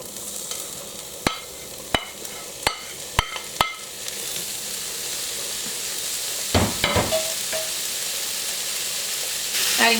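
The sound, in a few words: mushrooms frying in a pan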